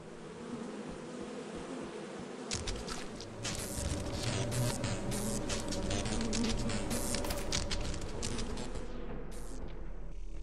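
Bees buzz in the Lethal Company video game, a steady droning hum that swells after a few seconds. Dense, rapid clicking patters over the drone, all fairly close and without speech.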